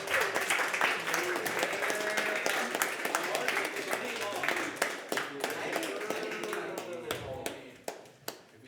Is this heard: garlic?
no